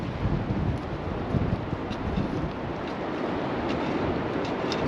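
Strong wind gusts hit the microphone outdoors while raspberries are being transplanted, making a loud, continuous, rumbling buffeting roar that fills the whole clip.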